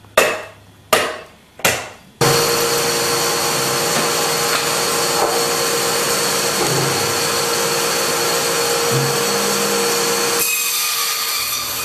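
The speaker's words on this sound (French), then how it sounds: "une partie du bois peut être débitée également à la scie à ruban" A band saw cuts wood blanks for making clogs in a workshop, opening with a few sharp knocks before the motor whines into a long, loud, steady cut that drops off near the end.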